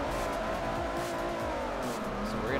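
Ferrari 330 and other race cars in a racing video game, engines droning steadily at close range with a brief rising tire squeal near the end, no talking.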